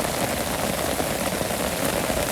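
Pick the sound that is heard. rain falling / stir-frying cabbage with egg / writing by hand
rain falling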